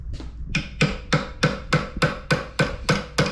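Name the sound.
hammer tapping on forklift hydraulic tilt ram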